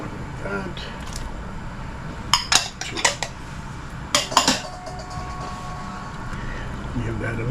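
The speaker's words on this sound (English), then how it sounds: "Give that a nice stir." A spoon clanks against a metal pot while kielbasa stew with sausage, beef and potatoes is stirred: a few sharp metallic knocks in two short clusters, close and clear over a low kitchen background.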